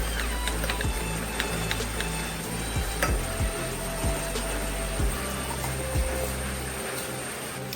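Cappuccino coffee mixture being beaten by hand, with a steady run of quick scraping strokes against the cup or bowl, close and continuous for several seconds, with no voice over it.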